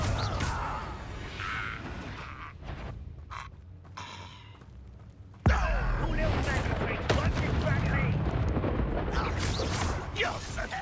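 Combat spells in Hogwarts Legacy crackle and burst in a dense barrage of blasts and whooshes, with a sudden loud impact midway and a voice shouting incantations.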